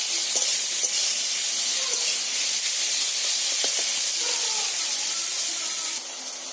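Tomatoes with a pinch of salt sizzle steadily in a hot pan while being sautéed for a bottle-gourd fish curry, a continuous close hiss with faint stirring scrapes and no talk.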